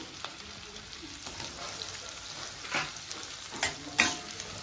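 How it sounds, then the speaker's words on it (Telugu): Capsicum pieces sizzle and fry in a pan while making restaurant-style chilli chicken, a steady close crackle with a few louder sharp pops and stirring scrapes toward the end. "కొంచెం ఫ్రై అవ్వాలి"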